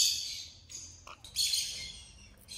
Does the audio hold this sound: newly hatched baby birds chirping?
yes